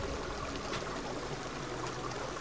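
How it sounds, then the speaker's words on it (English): Water being collected from a babbling brook in the video game Reign of Kings: a steady, even gurgling trickle of flowing water, continuous and fairly quiet, with no talk. "I'm collecting water in the babbling brook beside our base"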